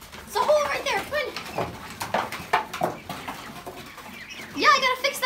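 Ducks quack in short, scattered bursts close by, mixed with a person speaking among them.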